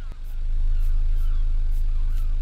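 A car engine in the video game Rental drones steadily at a low pitch, rising in level over the first half second and then holding at a constant loud rumble with faint higher whines.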